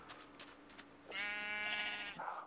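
Sheep in a video game bleat in a single loud, wavering cry of about a second, preceded by faint clicks and followed by a brief higher-pitched call.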